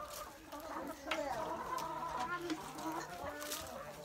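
Homestead chickens cluck and murmur softly while scratching through mulch for scattered sunflower seed, with several birds calling at moderate distance amid faint rustling.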